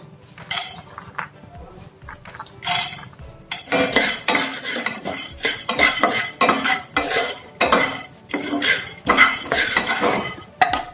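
Roasted gram (pottukadalai) is being dry-roasted in a pan for a baby nuts powder, with repeated scraping and stirring clatter of a spoon on metal, close and fairly loud, in irregular bursts and no talking.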